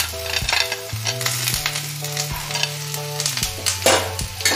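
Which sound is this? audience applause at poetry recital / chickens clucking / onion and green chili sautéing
onion and green chili sautéing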